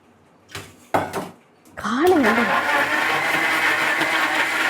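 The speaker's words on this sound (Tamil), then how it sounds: "இப்போ இதை அரைக்க போகிறோம்." A few clunks and knocks, then a blender whirs up to speed and grinds fruit steadily and loudly, close by.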